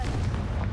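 The Confringo blasting spell in Hogwarts Legacy going off, a short, heavy booming burst with a deep low rumble, loud and close, over in under a second.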